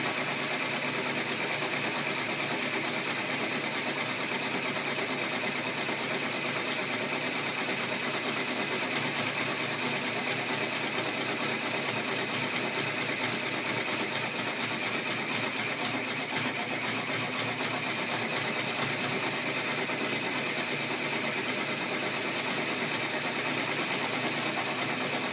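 An embroidery machine stitches out a fleece hat design, giving a steady, even mechanical whir and rapid needle chatter that runs unbroken at constant level throughout.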